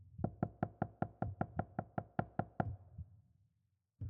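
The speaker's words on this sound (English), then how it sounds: "The couple looked at the door when they heard knocking" Someone knocks on a door in a rapid, even series of about a dozen sharp raps, close and distinct, followed by a brief pause and another faint knock at the end.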